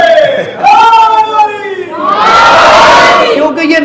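A large crowd at a Muharram Ashura gathering chants religious slogans, two loud surging waves of massed voices rising and falling together, close and filling the space, with no single voice standing out.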